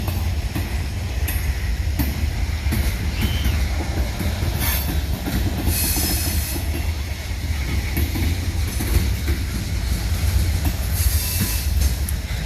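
Freight train with black tank cars rolling past at night, a loud continuous rumble of wheels with clickety-clack joints, occasional squealing and hiss over the steady roar, with no talk.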